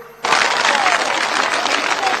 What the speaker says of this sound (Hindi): एक बार जोरदार तालियों से इन लखपति दीदियों का सम्मान कीजिए।